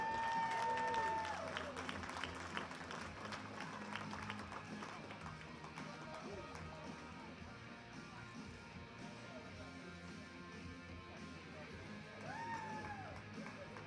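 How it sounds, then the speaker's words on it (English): Audience applause and scattered cheers at a masters pro series sports festival award ceremony, moderately distant clapping under a voice on a PA that keeps talking. "Give them another round of applause."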